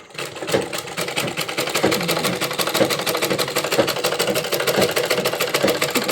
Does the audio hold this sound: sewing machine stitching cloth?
yes